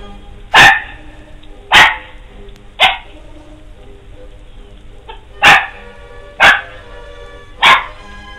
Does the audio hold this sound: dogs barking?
yes